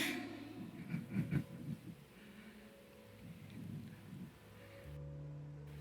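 Storm sound effect of rain and thunder, a low rolling rumble with heavier bursts near the start and a steady wash of rain beneath, fairly quiet overall with no voices.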